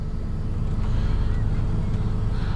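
Car engine revving as the gas is applied while the car sits high-centered on a wooden pole, a steady low droning rumble close by, held throughout the short clip.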